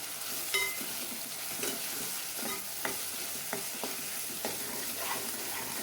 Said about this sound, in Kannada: ಹಸಿ ಸ್ಮೆಲ್ಲೆಲ್ಲ ಹೋಗೋ ಅದು ಚೆನ್ನಾಗಿ ಫ್ರೈ ಮಾಡ್ಕೊಳ್ಳೋಣ